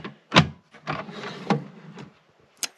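The drawer of a Craftsman TradeStack three-drawer tool box slides open and shut in a few quick close strokes, each a short scraping rub followed by a sharper knock.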